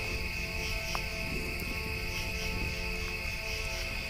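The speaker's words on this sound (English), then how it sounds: "of course the cicadas and the crickets and so forth" A steady, dense chorus of crickets and cicadas chirping and buzzing at night, continuous and even throughout with no voices.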